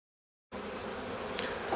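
Honeybees in an opened hive during a spring inspection, a steady dense buzzing hum that starts abruptly and holds close and even throughout.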